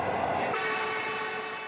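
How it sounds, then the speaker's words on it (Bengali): A train runs over the Padma Bridge railway, a steady loud rumble of wheels and carriages with a sustained horn-like tone layered through it, continuous and fairly close, no voices. "পদ্মা সেতু দিয়ে চলল ট্রেন,"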